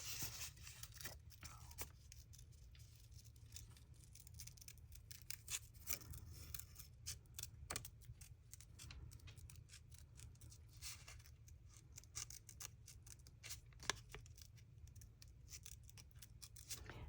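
Scissors snip through paper during fussy cutting, a long run of quick faint crisp cuts and light rustles, close and quiet over a low background hum.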